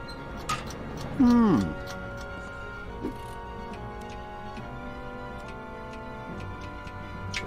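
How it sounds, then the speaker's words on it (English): A clock in the Wallace & Gromit's Grand Adventures video game ticks at a steady, even pace, with a brief voice speaking near the start before the ticking carries on alone. "This clock seems slightly cuckoo."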